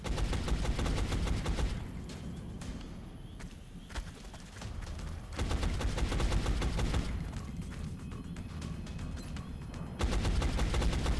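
Sustained automatic gunfire from the XCOM: Enemy Unknown strategy game, dense volleys with short lulls in between, loud and continuous across the span.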